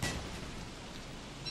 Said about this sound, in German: Sie mag den Regen nicht.